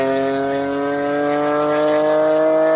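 A BMW E46 M3 engine fitted with an Eventuri carbon fiber intake holds a loud, steady, close high-rpm rev, its tone climbing slightly over a few seconds.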